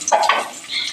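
Onions sizzle and are stirred in a pan while a chutney is being made. Brief scraping strokes sound over a soft frying hiss, close and fairly loud, under a second long.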